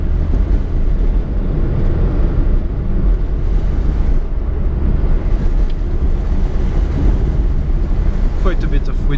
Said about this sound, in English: Quite a bit of wind noise from the sunroof as you start to accelerate.